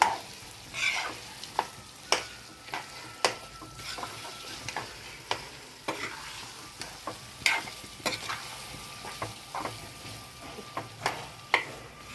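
Chopped goat heart pieces frying in a pan while a ladle stirs and chops them, giving a steady sizzle broken by a regular run of sharp scraping clicks from the utensil, close and clear with no talk.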